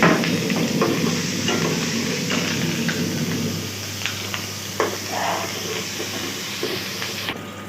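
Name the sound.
garlic and green chili frying in oil in pan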